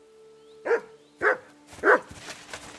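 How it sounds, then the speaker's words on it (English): Dog in the medieval video game Kingdom Come Deliverance 2 giving three distinct barks with short whimpering edges, spaced about half a second apart, close and clear over a quiet steady hum. "You silly doggy."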